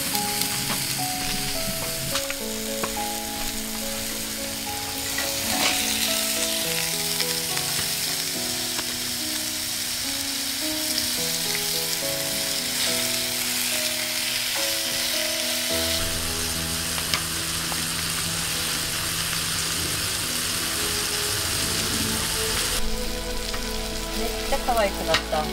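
Salmon sizzles steadily in a hot pan at a campsite, a continuous crackling hiss with background music playing throughout.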